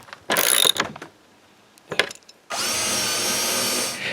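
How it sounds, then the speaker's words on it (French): A power drill drives screws to fix a strap hinge onto a wooden chalet shutter, with two short whirring bursts followed by a long steady run at close range, and no talk. "Je peux maintenant visser la première penture du premier volet."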